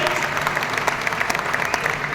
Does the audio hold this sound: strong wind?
no